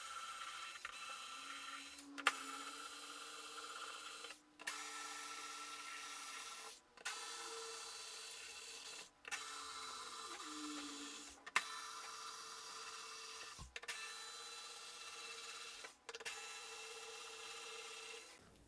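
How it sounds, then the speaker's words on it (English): An electric screwdriver backs screws out of a P.A. speaker cabinet, a steady motor whir repeating in several bursts separated by short pauses, close and quiet, with no voices. "So now we've got all of those screws removed. We can put the screwdriver over there"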